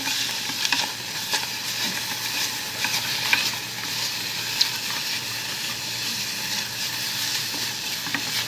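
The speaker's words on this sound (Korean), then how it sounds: "요거 볶아줍니다" Ingredients stir-fry in a pan with a constant close, bright sizzle and occasional sharp clicks from the utensil, steady throughout with no voices.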